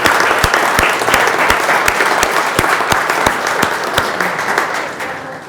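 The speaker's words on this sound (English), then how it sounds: "Some applause, by the way." Audience applause at a talk on education and entrepreneurship, loud continuous clapping with some sharp individual claps standing out, fading slightly at the end.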